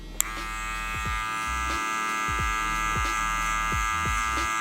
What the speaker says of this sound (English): So you'll start with the clipper attached to the head